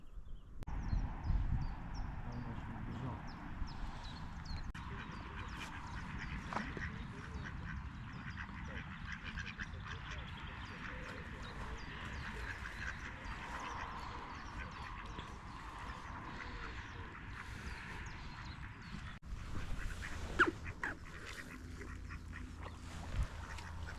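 Ducks quack intermittently beside a pond during a fishing outing in France, faint and somewhat distant over steady outdoor background noise.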